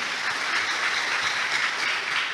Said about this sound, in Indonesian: Beri tepuk tangan yang meriah bagi Tuhan.